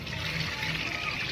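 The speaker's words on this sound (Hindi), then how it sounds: "अब इसमें नीम की पत्ती, ये पूरी बाल्टी ही इसमें पलट दो।" A whole bucket of water with neem leaves tipped into a container for homemade shampoo, giving a steady, close, rushing pour that lasts about a second and a half.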